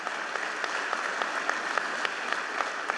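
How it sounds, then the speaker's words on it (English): An audience applauds at a public ceremony at the Kimmel Center, a steady wash of many hands clapping, fairly distant and even, with a few sharper individual claps standing out. "that's all right for you to give that a round of applause."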